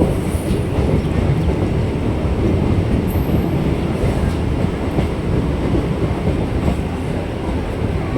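Train at Krishnanagar City Junction railway station rumbles steadily and loudly throughout, a dense continuous roar with faint wheel-on-rail rattle and occasional high squeals, no talk.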